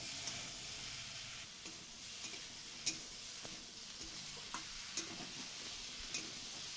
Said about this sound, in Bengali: কচুরলতিগুলো ঢেলে দিলাম। ভালো করে মশলার সঙ্গে কচুরলতিগুলোকে মিলিয়ে নেব।